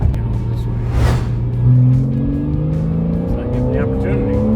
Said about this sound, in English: I really like the exhaust note when it's depressed and when it's in loud mode